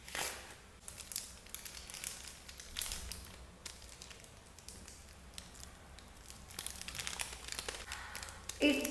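Wrapper of a Dubai kunafa chocolate bar crinkled and rustled up close, with dense crackling and crumpling throughout at a soft, intimate level.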